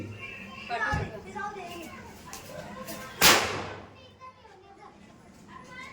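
A single sharp bang from a small lavangi firecracker rings out close by, amid the chatter and shouts of children playing during Tulsi Vivah festivities.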